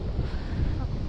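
A north wind buffets the microphone with low rumbling gusts, steady and close, with no voices, while fishing from a boat near a riverbank.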